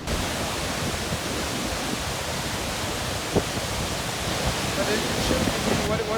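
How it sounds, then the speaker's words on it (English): Waterfall Bluff on a rugged coastline, where falls drop straight into the ocean, fills the air with a dense, steady roar that blends with surf. It stays loud and unbroken throughout. "an incredible feature on the coastline where the falls drop directly into the ocean"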